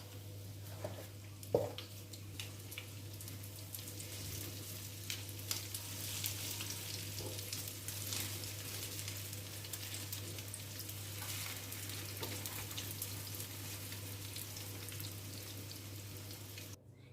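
Milk warming in a cezve on a home stove, giving a steady soft sizzle and faint bubbling that holds evenly throughout, with a brief clink near the start.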